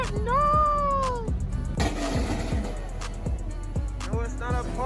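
Car engine revving at a car meet, rising and falling in repeated surges close by, with a rumble of other idling engines and some background voices.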